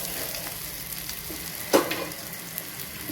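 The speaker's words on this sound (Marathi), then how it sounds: "कांदा आपल्याला तेलात चांगलं तळसून घ्यायचं आहे." Chopped onion frying in oil in a home kitchen pan, a steady soft sizzle with one brief louder stir or clatter partway through, no voices.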